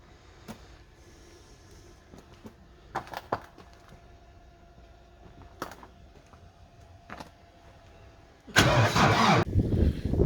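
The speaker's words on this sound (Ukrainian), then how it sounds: "Зараз насос вже прокачує дизель, прогріваються свічки на калу і буде перший пуск" A diesel tractor is cold-started at minus 20 after glow plugs preheat and the pump primes fuel. Sparse faint clicks and knocks come first, then the engine cranks and roars loudly to life near the end.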